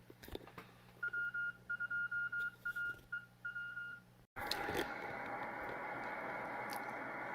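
A steady Morse code CW tone keyed in short and long bursts on a Heathkit SB-300 ham receiver, fairly clear over faint static, then cut off by a sudden burst of loud band hiss as the dial moves.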